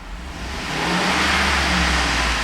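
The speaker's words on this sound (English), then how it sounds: "I'm going to rev the engine" Revving 5.3-liter V8 of a 2009 Chevrolet Suburban LTZ, a close engine sound swelling from idle to a sustained higher-rpm roar that holds steady to the end.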